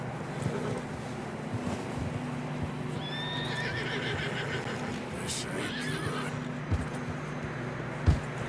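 Horses in the video game Red Dead Redemption 2 whinny a couple of times over a steady outdoor wind and water wash, with a few soft hoof thumps and a sharper knock near the end.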